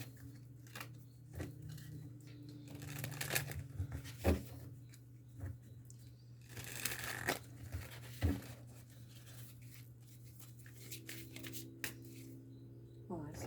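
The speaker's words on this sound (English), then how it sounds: "I want to just get this all shuffled up again" Tarot cards are shuffled in repeated soft riffling and slapping bursts, close by and fairly quiet, with a low steady hum underneath.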